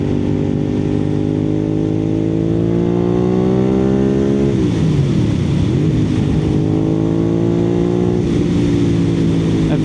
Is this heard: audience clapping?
no